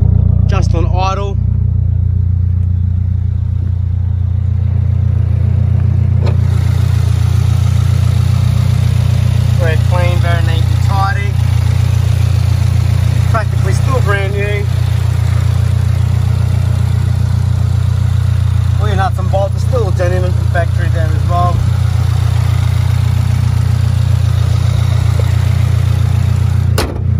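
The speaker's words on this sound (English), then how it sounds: "just want to give you that nice rumbling noise. Okay, just on idle" A 2022 Subaru WRX RS engine rumbles steadily at idle for the whole stretch, a loud low drone that carries on under intermittent talking from a nearby man.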